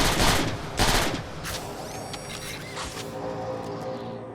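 Rapid bursts of machine-gun fire from a neutral machine gunner soldier in the Transformers: War for Cybertron video game, loud and close with clustered shots, then a sustained lower mechanical drone.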